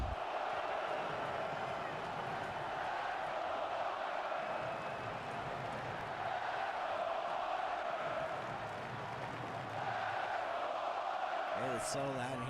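Arena crowd at an NHL Stanley Cup Final game between the Florida Panthers and Edmonton Oilers roars continuously and loudly for the whole stretch, a dense sustained wall of noise with a brief sharp burst near the end.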